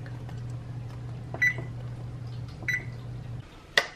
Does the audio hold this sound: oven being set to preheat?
yes